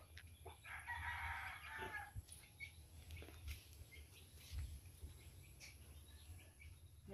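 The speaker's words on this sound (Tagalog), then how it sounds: "Si Junjun nagpakain sa mga alaga nating manok." A rooster crows at a distance over faint clucking chickens and outdoor background noise, with a few soft knocks and rustles.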